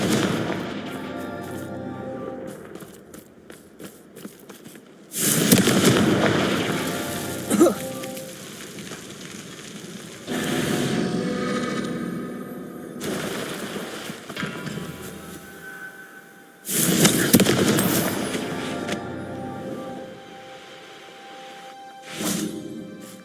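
Confringo fire-curse explosions in Hogwarts Legacy, three long roaring blasts with crackling, rain-like debris spread across the stretch, loud and close, separated by quieter lulls.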